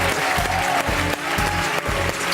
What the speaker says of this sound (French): Marc Villalonga, on l'applaudit, s'il vous plaît.